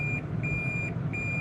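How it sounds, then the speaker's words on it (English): A car's reversing alert beeps four times in a steady rhythm during parking, high and clear over a low engine rumble. "Oh, parking the rich man's car,"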